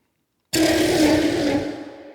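A sudden, heavy cinematic hit bursts in after a moment of silence, a dense, aggressive boom with a gritty roar that slowly fades.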